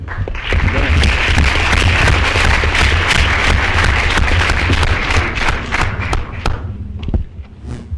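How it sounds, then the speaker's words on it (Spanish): Audience at a university tax-reform forum in Puebla breaking into loud, sustained clapping for an introduced speaker, dense and close, fading out toward the end. "Le damos un fuerte aplauso."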